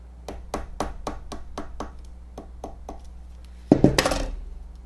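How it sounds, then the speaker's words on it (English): A hammer drives a large nail into bamboo sticks for a home decor craft: about ten evenly spaced sharp taps, then a louder clattering knock at the end. "I found a bigger nail, and I'm going to hammer it in"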